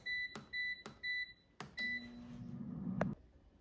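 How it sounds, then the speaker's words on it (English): An air fryer cooking andouille sausage signals the end of cooking with three short, clear electronic beeps, then a low steady hum, faint and close in a quiet room. "Now the air fryer is done cooking"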